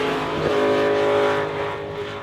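An Audi race car engine, a V8 DTM machine, roars loud and close in one sustained, strongly tonal blast that holds steady, then eases slightly toward the end. No voices.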